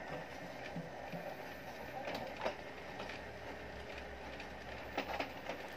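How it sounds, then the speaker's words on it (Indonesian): Epson M2140 printer copying five pages runs with a steady mechanical whir and rhythmic clicks and clacks of paper feeding, close by and fairly quiet, with no talking. "ini saya copy dengan 5, dengan 5 lembar. Kita langsung tekan tombol yang bawah ini."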